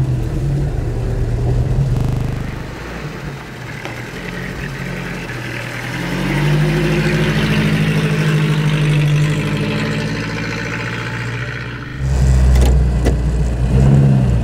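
An old 1940 Rosengart LR539 Supertraction car engine idles, then revs and pulls away, the throbbing motor rising and falling in pitch with no talking.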